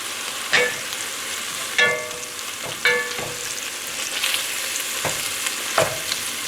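Lean ground bison, 90/10, browning in a hot pan with a steady crackling sizzle, punctuated by several sharp scrapes and knocks as a spatula breaks the meat apart, close and without talk.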